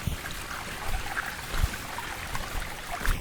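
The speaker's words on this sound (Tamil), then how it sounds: "பாருங்கள் நீரோடைய சவுண்டு வந்து எவ்வளோ இதாக கேட்குதுன்ட்டு." Gentle stream water trickling and flowing near a hillside Murugan temple surrounded by hills in Vellore, a steady soft wash with faint low thumps, no talking.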